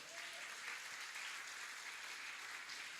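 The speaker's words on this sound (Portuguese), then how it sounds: "dê uma salva de palmas para o Senhor" A church congregation applauds for the Lord, steady, sustained clapping from a crowd at moderate distance, even in level from start to finish.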